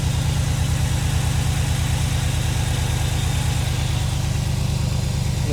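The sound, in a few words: 2008 Chevy Silverado engine running, belt spinning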